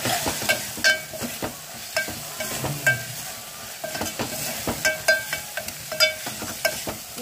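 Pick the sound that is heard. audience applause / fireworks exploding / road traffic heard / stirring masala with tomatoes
stirring masala with tomatoes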